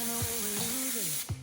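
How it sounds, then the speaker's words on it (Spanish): An aerosol can of spray adhesive hisses out in short bursts close up, with faint rising tonal squeaks around the spurts and a final sharp puff at the end. "Fijaros cómo sale el spray del bote."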